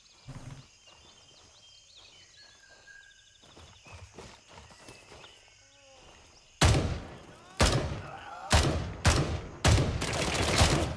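Video game gunfire opening up after quieter footsteps and movement sounds, a series of loud sharp shot bursts in quick succession.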